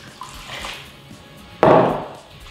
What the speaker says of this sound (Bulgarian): ще залея с още горе-долу една чаша гореща вода